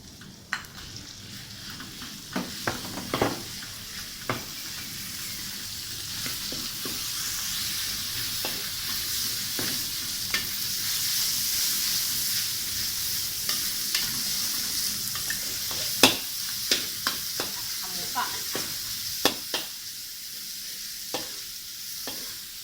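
Minced pork stir-frying in a wok for Sichuan mapo tofu, a steady sizzle broken by repeated sharp scraping and clattering of the spatula, close and continuous with no talking.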